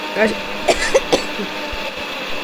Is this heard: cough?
yes